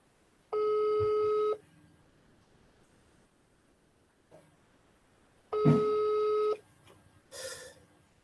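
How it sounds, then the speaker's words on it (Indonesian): A telephone rings in two separate bursts, each about a second long, fairly close, with a quiet room and faint rustling between them. "Ini memanggil ya, berdering nih."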